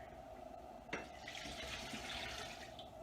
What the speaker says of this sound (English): And then I'm going to pour in the water.